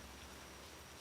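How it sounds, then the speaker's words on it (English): Steady, soft rain falls in the background as a continuous faint patter and hiss, with no voices present. "Now, you might hear some rain in the background."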